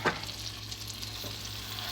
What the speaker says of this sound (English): I don't have quite enough sizzle, so I went ahead and turned it up a little bit.